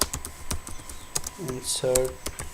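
Typing on a computer keyboard while entering an SQL query, a run of sharp, irregular key clicks close up, with a person speaking over part of it.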